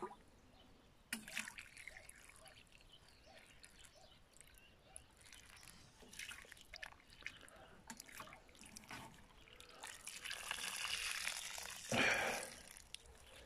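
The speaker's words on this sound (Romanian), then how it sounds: "Deci am turnat în total aproape 20 de litri de macerat de urzică." Nettle macerate liquid is poured onto freshly planted mint under an apple tree outdoors, producing quiet trickling and splashing that swells toward a louder gush near the end.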